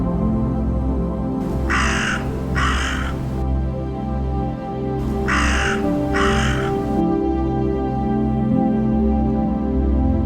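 Two pairs of loud crow caws ring out with a pause between them, over a steady low hum.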